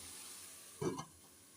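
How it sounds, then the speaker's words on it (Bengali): Taro stolons cook under a lid in a covered pan, giving a faint, steady low hiss with one brief soft clatter partway through. "এটাকে আমি এখন এক মিনিটের জন্য ঢাকনা দিয়ে ঢেকে রান্না করে নিব"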